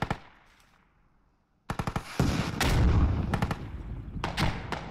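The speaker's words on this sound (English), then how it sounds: "They're making use of those frag rockets" Frag rocket explosions and gunfire ring out in the Squad video game: a faint distant shot opens, then, after a quiet stretch, a loud run of sharp gunshots and heavy booming blasts continues to the end.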